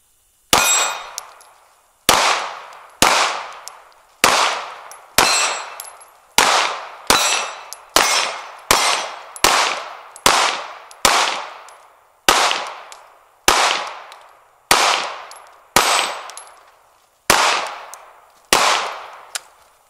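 Canik Miami Signature Series pistols fire at steel targets: about twenty sharp, loud reports, each followed by a ringing metallic clang, coming in an irregular but fairly steady rhythm with short pauses and no talk.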